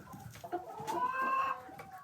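Village chickens being fed cluck softly and repeatedly at close range, with one longer drawn-out call partway through and a quiet background.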